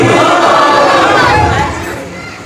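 A large crowd at an Islamic religious speech chants the takbir slogan in a loud, dense roar of many voices that holds steady, then fades.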